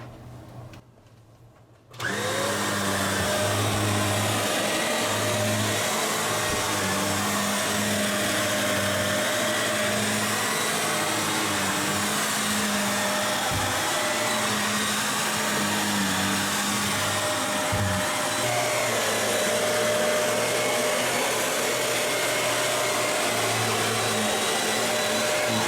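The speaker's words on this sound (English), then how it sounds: "So let's vacuum the bedroom." A Shark Navigator Lift Away upright vacuum cleaner with a beater head switches on and runs steadily in an RV bedroom, a loud constant motor whine and hum with slight shifts as it moves over carpet.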